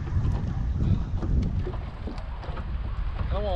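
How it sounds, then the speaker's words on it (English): Strong wind buffets the microphone steadily while fishing from a boat on open water, a constant low roar with gusts and no talk. "It's really windy."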